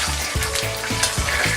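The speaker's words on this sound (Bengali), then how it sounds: "ফোড়নে আছে আমার গোটা জিরে আর শুকনো লঙ্কা, এটা আমি ফোড়ন দিয়ে দিলাম।" Whole cumin seeds and dried chillies tempering in hot oil, a steady close sizzle with a few soft stirring knocks, brief and without talk.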